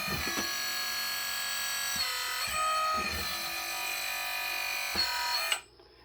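The hydraulic pump on a 1/14 scale RC hydraulic bulldozer modeled on a CAT D10T whines in a steady high-pitched electric buzz, with a few brief clicks and pitch changes before it cuts off abruptly near the end.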